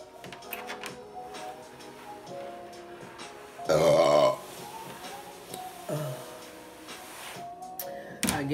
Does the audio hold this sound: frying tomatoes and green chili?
no